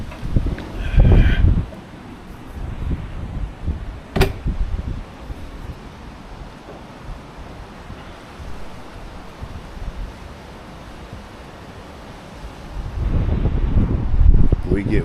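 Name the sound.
strong wind howling outside RV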